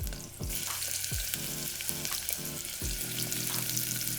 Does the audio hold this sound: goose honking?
no